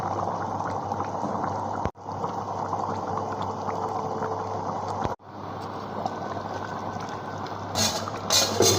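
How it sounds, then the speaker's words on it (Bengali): Pangas fish curry bubbles under a lid on an induction cooker, a steady, fairly loud simmering hiss broken by two sudden brief dropouts and a few clinks near the end. "দেখো মাছের ঝোলটা ফুটছে দেখো"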